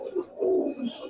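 Giribaz and coloring pigeons coo at close range, a short series of low throaty coos swelling to a louder rolling note in the middle before fading.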